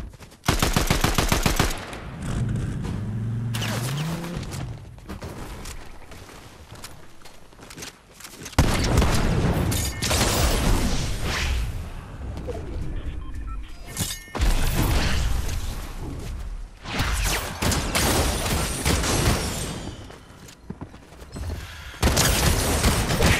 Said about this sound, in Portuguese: Eu vou dar dois tiros nele de pump